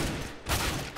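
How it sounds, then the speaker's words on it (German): Gunfire in a competitive Counter-Strike match fills the whole second as a dense, loud burst of rapid shots with a brief dip midway, no voices audible. "Oh, da hat er noch einen Schuss gehabt."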